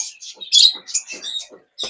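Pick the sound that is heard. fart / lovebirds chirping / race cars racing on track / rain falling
lovebirds chirping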